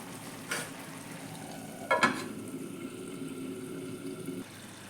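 Green beans mezhukkupuratti cooks in a pan over a low flame, a soft steady sizzle running throughout with a couple of brief clinks or stirs near the start and middle, no talking.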